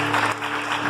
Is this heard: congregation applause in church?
yes